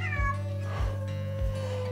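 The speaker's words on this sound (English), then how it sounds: "there's a cat in my house" A cat meows inside a house, several drawn-out tonal meows in a row at a steady, close level, with a low constant hum underneath and no talking.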